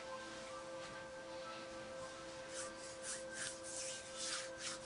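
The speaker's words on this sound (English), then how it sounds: "I'm gonna get it rubbed into your legs here." Soothing leg lotion with rosemary, wild mint and aloe vera being rubbed into legs during a spa treatment role play: steady, close, soft rubbing and swishing strokes with a gentle rhythmic swell, no voice.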